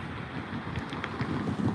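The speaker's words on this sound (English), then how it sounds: "I know with the wind, I know it's probably windy right now." Wind buffets an outdoor phone microphone, producing a continuous loud, rumbling roar with gusty low thumps and no voice.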